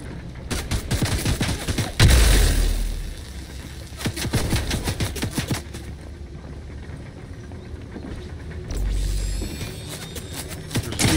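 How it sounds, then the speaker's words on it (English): Video game gunfire comes in rapid bursts and single shots, loud and close, with a heavy boom near the start, another cluster of shots in the middle and a further volley near the end. "I'm getting shot at from behind."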